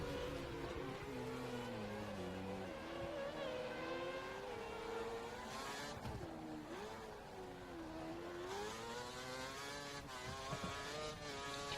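An F1 race car in the F1 2013 video game, in qualifying at Malaysia, accelerates out of turns with a high, rising engine whine that repeatedly climbs and dips through gear changes, steady and fairly quiet, with no talking.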